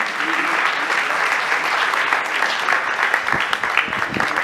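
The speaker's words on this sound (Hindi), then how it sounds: "हम सभी हमारी जोरदार तालियों के साथ इस बात का अभिनंदन करें" Audience applause at an award ceremony honouring a guest, a dense, continuous wash of many hands clapping loudly, growing a little more ragged toward the end.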